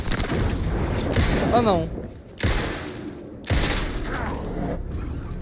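Gunshots fired in the video game Alan Wake 2, three loud, sharp blasts spaced about a second apart, each trailing into a short echo while someone talks over and between them.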